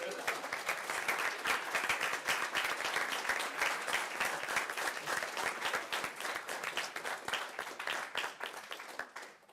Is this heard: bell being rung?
no